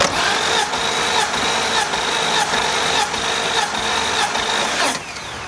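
A BMW inline-six engine, M50/M52/M54 family, cranks on the starter during a compression test of cylinder 3, a loud rapid rhythmic whirring with regular pulses for about five seconds, then stopping.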